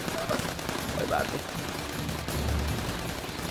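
Bursts of machine-gun fire in the video game Assassin's Creed Chronicles India crackle faintly in rapid volleys, partly masked by background game sound and a person talking.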